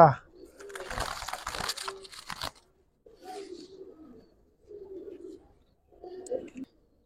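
Giribaz pigeons give several soft, low, throaty coos in separate bursts, close by. The coos follow a stretch of crinkling, rustling handling noise at the start.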